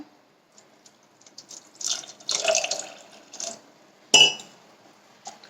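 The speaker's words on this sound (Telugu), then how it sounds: "రండి, నీళ్ళు పోసేద్దాము." Water pours from a vessel into a pot of tamarind-leaf dal in a home kitchen, in uneven splashing bursts, then a sharp metallic clink and a last brief splash, close and clear.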